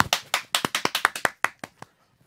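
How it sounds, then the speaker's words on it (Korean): A handful of people in a radio news studio clap in quick, crisp, separate claps that come in a rapid run and then thin out to a few last scattered claps. "다시 한번 뜨거운 박수 부탁드립니다"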